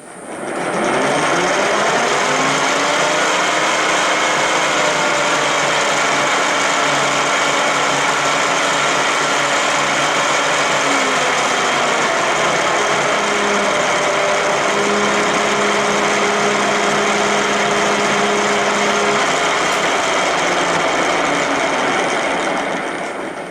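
A 14.5 mm split point drill bores into a workpiece on a lathe with a new tailstock, giving a steady, loud mechanical whir with a shifting whine that runs unbroken for the whole stretch.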